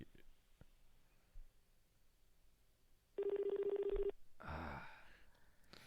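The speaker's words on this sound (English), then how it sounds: "Yeah, but I'm calling from my phone." A touch-tone phone dialing sound from a cell phone: one steady tone holds for about a second, then muffled handling noise follows in an otherwise quiet room.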